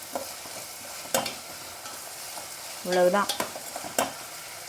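Vegetables for a wheat upma sauté in a pan under a steady soft sizzle, with scattered scrapes and clinks of stirring and a brief spoken word partway through.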